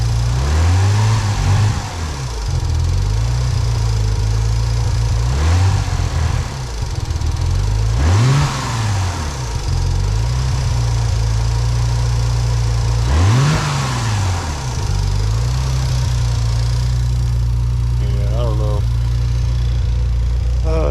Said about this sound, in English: I guess we'll know when we rev it